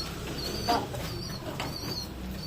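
Pigeons being moved to a new loft flap their wings in a few soft, quick bursts, close but faint over quiet background noise.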